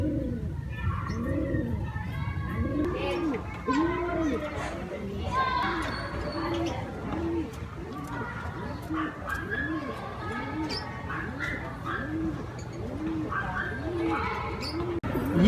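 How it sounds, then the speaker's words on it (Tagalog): Pigeons coo repeatedly in a steady series of soft, rounded calls close by, with background chatter and occasional other bird sounds throughout. "nandito na yung Kalapate"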